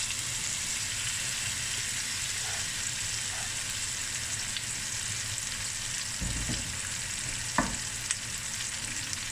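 Peppers and onion frying in olive oil and a little butter in a pan, a steady close sizzle with a few soft stirring knocks and scrapes near the end.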